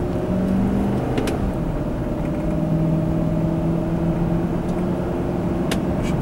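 A 2005 Ford F150 pickup with a repaired transmission drives on a road while testing overdrive, with a steady engine drone and low rumble heard from inside the cab, its tone shifting slightly as it gains speed.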